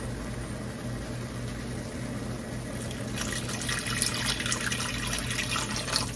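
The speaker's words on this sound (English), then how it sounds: "let's add some water" Water poured into a pan of gravy for smothered chicken, a soft continuous trickling and splashing that turns brighter and fuller partway through, heard alone.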